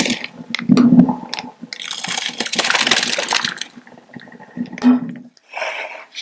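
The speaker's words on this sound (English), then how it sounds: "Now I'm going to strain this water" Water pours from cooked rice through a big strainer into a sink in irregular splashing bursts, with a steady gushing stretch in the middle, metallic clinks and taps, and short pauses between pours.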